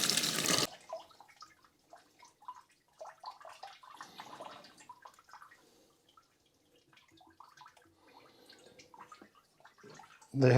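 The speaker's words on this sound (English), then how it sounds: "And of course coolant is going to drain out when I do that." Coolant trickles and drips faintly and irregularly from a Fiat Panda 4x4 engine after its water pump is removed, with louder noise bursts at the start and end.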